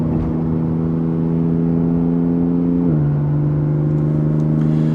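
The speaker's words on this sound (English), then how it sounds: "I'm driving it, nice, maybe not aggressively here, but I'm driving the car" A Porsche Cayman GTS 4.0 engine drones steadily in the cabin while cruising, a loud, smooth mid-pitched hum whose pitch drops slightly partway through as the revs settle, with no talking.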